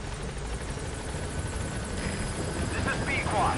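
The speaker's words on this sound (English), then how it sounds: "let's head into our helicopter" Helicopter rotor noise in Metal Gear Solid 5, a steady dense engine drone that continues throughout under game sounds and talk.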